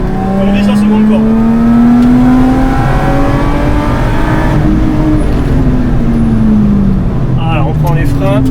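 A Lotus Exige S engine accelerating hard on a race track gives a loud, close rising whine through the gears, with brief drops between shifts and a faint voice over the engine.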